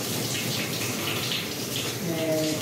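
A shower head set to its normal mode sprays a steady, close hiss of water, with someone speaking quietly underneath.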